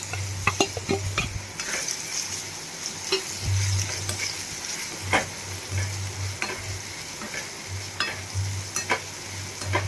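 Ridge gourd tossed into garlic sizzling in hot oil gives a steady, close frying hiss for the whole stretch, with spatula clicks and scrapes against the pan scattered throughout.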